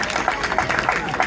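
A stand-up comedy audience gives scattered, moderate clapping at a live show, a steady patter of hands with the crowd murmuring underneath.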